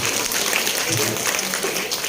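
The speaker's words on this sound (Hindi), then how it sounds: "अगर अच्छा काम कर रहा हो तो एक बार जोरदार ताली मैं चाहूंगा आप लोगों" Loud applause from an audience at a children's programme at a wedding gathering, a dense, steady clapping that fills the whole moment from start to finish.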